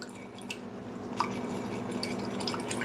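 Water stirred in a small hermit crab zoea rearing tank, giving a soft, continuous sloshing and dripping texture with a few light splashes, close and steady for about three seconds, with no talking.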